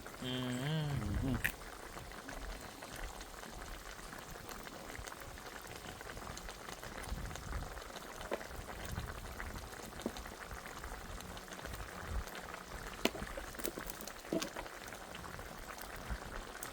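A pot of brown stew fish bubbles and simmers gently and continuously with small popping sounds, after a brief louder moment at the start.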